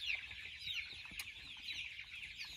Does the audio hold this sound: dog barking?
no